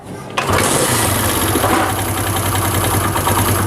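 A Honda CD70 motorcycle engine with cam sprocket noise cranks and catches, then settles into a steady close idle with a fast mechanical ticking rattle running through it.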